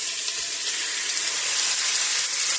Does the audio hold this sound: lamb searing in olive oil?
yes